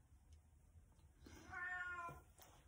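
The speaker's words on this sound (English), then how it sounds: "Oh, the cat's saying hello." A single drawn-out cat meow rises clearly, close by, over a quiet background.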